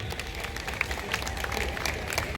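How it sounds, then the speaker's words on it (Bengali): Crowd at a Run for Tea award ceremony applauds as a cheque and certificate are handed over, a continuous loud wash of clapping from many people. "সবাই মিলে প্লিজ জোরদার করতালি হোক সবাই মিলে"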